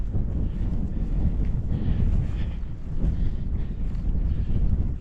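Wind blows across the exposed moorland plateau of Kinder Scout, buffeting the microphone with a continuous, gusty low rumble that swells and eases slightly, with no voices.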